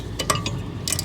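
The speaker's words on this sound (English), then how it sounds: "let's grab a 1/4 inch drive ratchet, jump on here" A 1/4 inch drive ratchet turning a ball end hex bit, giving a few quick, close, crisp clicks in an uneven rhythm over steady low background noise.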